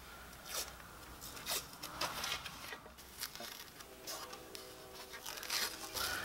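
White hockey tape peels off the roll onto a stick blade in short, faint ripping strips, a soft sticky crackle repeating every second or so in a quiet room.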